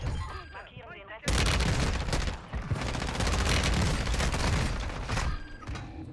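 Video game gunfire on the Vondel map: sudden bursts of rapid fire erupt after a quieter start, loud sustained volleys of shots that taper off near the end.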